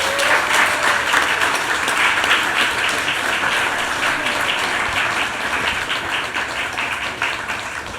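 An audience at a festival tribute event applauds a stage conversation, a dense, sustained wash of clapping from many hands that holds steady and fades slightly toward the end.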